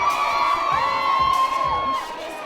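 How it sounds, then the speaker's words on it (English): Concert crowd cheering and whooping for an impersonator taking the stage, a dense, loud roar of many voices with high shrieks rising and falling throughout. "when she takes the stage, the crowd reacts as if it's really her"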